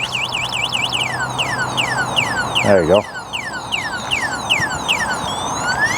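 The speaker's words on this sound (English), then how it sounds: "So the alarm is now going off." An electric folding bike's anti-theft alarm cycles through shifting whoops, chirps and descending sweeps, loud and close, while a person speaks briefly over it.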